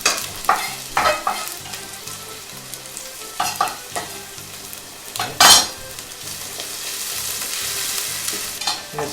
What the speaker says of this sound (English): so I'm going to use some bacon. We're going to saute this together.